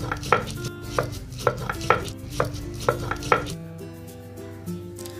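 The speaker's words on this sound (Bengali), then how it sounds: "এবার আমি মশলাটা একটু জল দিয়ে বেটে নেব।" Chili, cumin and ginger are ground into a wet paste with water, heard as a series of sharp, evenly spaced knocks of stone or blade, close and loud, with a tonal hum underneath that fades after a few seconds.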